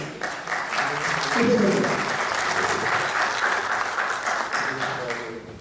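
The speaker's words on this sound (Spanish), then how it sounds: "le pedimos también un fuerte aplauso" A conference audience applauds the moderator of a Peruvian public–private science meeting, a thick, steady round of clapping from many people that swells and then eases slightly, with a few voices murmuring beneath it.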